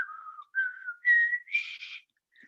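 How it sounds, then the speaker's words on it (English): A person whistles the Star-Spangled Banner alone: a short run of clean, sustained notes that step upward in pitch, with brief pauses between phrases. "So here you can see a whistled version of the Star-Spangled Banner."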